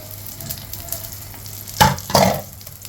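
Flower fritters crackling as they fry in hot oil, a steady sizzle with two louder bursts of spatter toward the end, close up, with no talking.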